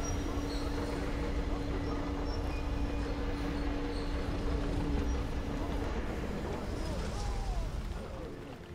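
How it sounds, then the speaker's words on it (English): A train rumbles past in the video game Metro Exodus, a steady, fairly faint low roll with a thin squealing tone that fades out near the end, while a voice talks over it. "So is that their train that's going across?"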